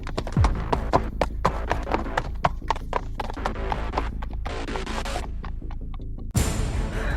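Horses' hooves clip-clop steadily on the ground in a rhythmic gallop as several riders pass, close and loud throughout, with a brief whinny-like sweep near the start and end.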